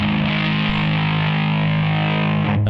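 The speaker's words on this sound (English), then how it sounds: "the last drive pedal that I have is an Ibanez FZ7 Fuzz, which is really only used as an effect." Electric guitar through an Ibanez FZ7 fuzz pedal, a thick, saturated, buzzing sustained chord ringing loud and steady for a couple of seconds before being cut off.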